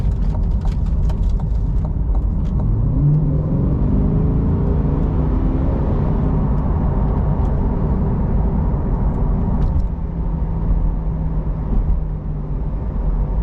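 A 2020 Chevrolet Corvette 2LT Z51 coupe driving, a steady engine and road drone heard from inside with a low tonal whine that rises and settles, moderately loud and continuous without talk.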